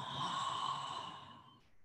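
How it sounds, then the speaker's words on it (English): A single long exhale through an open mouth during a yoga flow, a soft, breathy sigh lasting nearly two seconds, close and quiet, fading at the end, with no speech. "Open your mouth, exhale."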